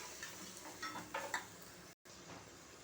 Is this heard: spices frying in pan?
yes